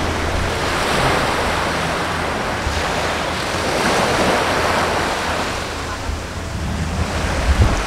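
Ocean waves at a beach on Gili Trawangan island wash in as a steady broad surf roar, mixed with wind buffeting the microphone, continuous and fairly loud without any talking.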